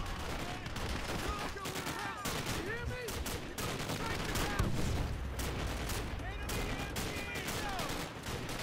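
Dense gunfire from the World at War video game, bursts of shots and automatic fire crackling from all sides in a steady, loud barrage with a brief explosive swell midway; a voice is heard faintly in the mix.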